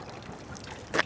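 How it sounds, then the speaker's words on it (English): Water pours into a bag in a brief trickling splash, soft at first and then a louder gush right at the end of the short moment. "So what I'm going to do now is fill the bag up with water"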